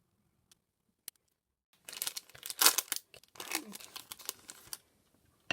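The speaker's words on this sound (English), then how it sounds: "They're easily cut with scissors." Scissors trimming small pieces of beeswax or hive material, giving a run of close crisp snips and crinkly cuts in quick uneven bursts after a near-silent start.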